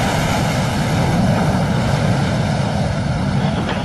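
A military jet roars at full power as it goes around after a bolter, touching down past the arresting wires on a pitching aircraft carrier deck in bad weather. The engine noise is loud and steady, with no talking.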